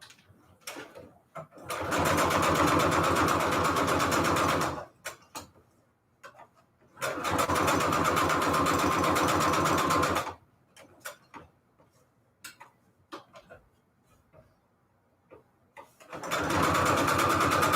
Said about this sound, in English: I'm going to straight stitch a border all the way around.